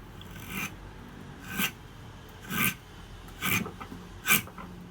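Drawknife shaving a softer piece of wood on a blade forged from an old file, five rasping strokes at an even pace, close and clear.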